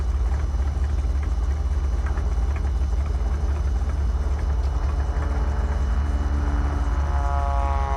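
A helicopter departs the airfield at Hood River, its steady rotor and engine drone loud and constant throughout, with a low chopping pulse and no voices.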